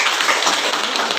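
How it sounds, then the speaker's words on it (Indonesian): A hall audience claps at a doctor's talk on therapy and healing, a dense, even burst of applause filling the short moment without pause. "Boleh tepuk tangan ya"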